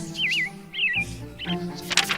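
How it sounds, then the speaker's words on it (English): Birds sing clear, warbling trills in short phrases, close by, with quick chirps at the end. "The birds that sing for you,"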